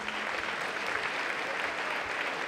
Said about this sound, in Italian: penso che un applauso lo meritano